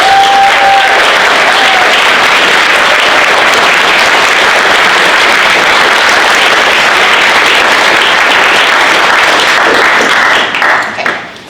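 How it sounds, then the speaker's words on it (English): A large audience at a university venture competition gives the volunteers a big, loud round of applause, dense clapping sustained evenly for about ten seconds before tapering off quickly at the end. "let's give them a big round of applause"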